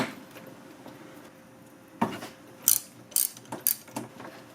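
A socket wrench on a swivel ratchets in short, quick clicking bursts while loosening a bolt on a Tomberlin E-Merge 500 LE golf cart. The ratcheting is close and crisp, with several separate runs of clicks after a quieter start.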